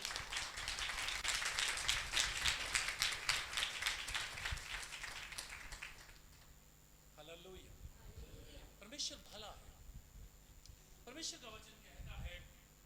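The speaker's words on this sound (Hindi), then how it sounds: "जोरदार तालियां बजनी चाहिए था," Congregation at a church sermon clapping, a loud run of fast hand claps for about six seconds that then stops, followed by someone speaking.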